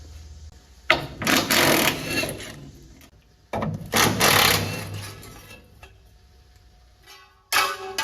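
Socket wrench loosening gas tank bolts on a vehicle raised on a lift in a garage, with bursts of close ratcheting and scraping separated by short pauses.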